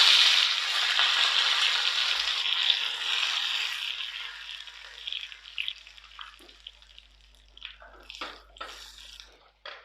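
Curry leaves hit hot coconut oil for a Kerala sambar tempering with a loud burst of sizzling that fades over several seconds into scattered crackles and pops as the stove is turned off.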